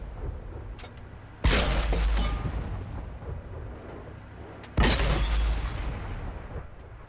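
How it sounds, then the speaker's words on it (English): Tank cannon fire in World of Tanks on PS4, a British Comet medium tank: two loud booming shots a few seconds apart, each followed by a long rumbling decay over a low engine drone. "Managed to get a nice few shots into him very quickly"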